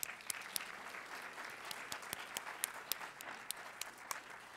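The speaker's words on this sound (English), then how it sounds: "Let's give him a warm round of applause." An evening audience at a film introduction event gives quiet, distant applause, with sparse individual claps standing out over a soft, continuous wash of clapping.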